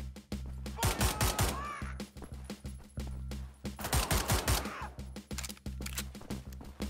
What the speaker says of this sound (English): You can't rapid fire this gun.